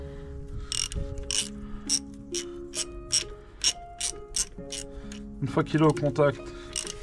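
Ratchet wrench clicking in short repeated bursts while tightening the oil drain plug on a Kymco Agility 50 scooter, close and crisp, with someone talking over the clicks.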